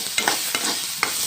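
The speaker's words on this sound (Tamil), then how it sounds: "பொரியுது பாருங்கள்." Chana dal frying in hot oil for a ginger chutney, a steady bright sizzle broken by a few sharp spatula scrapes and stirs, close and fairly loud, no talking.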